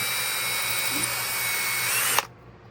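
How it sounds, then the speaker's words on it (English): Power drill boring holes for a washer during restoration of a USM3 military item, a steady close high-pitched motor whine that runs continuously and then cuts off abruptly near the end. "You just drill the holes."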